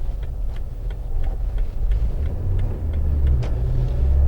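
A 2003 Jeep Wrangler rumbles along a road as it slows for a left turn. The engine drones low and steady from inside the cab, and no one speaks.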